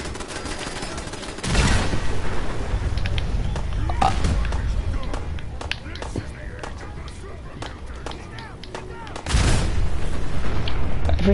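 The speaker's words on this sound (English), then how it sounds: "Everything's exploding." Explosions in a modded Fallout 4 video game: heavy booms and crackling blasts arrive in two loud waves, with continuous rumble and debris-like clatter between them, as a voice talks over the chaos.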